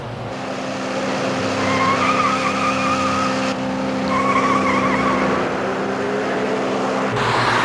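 A runaway car roars past at about 110 mph, heard from the roadside emergency strip: a loud sustained rush of engine and road noise that rises and swells twice over several seconds, with a steady hum underneath and no talking.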